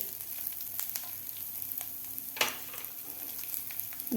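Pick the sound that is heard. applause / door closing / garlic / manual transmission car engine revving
garlic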